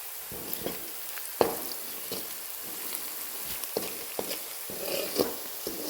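Crushed garlic and cumin with salt fry in hot oil under a steady hiss, broken by light, irregular scrapes and taps as they are stirred in the pan.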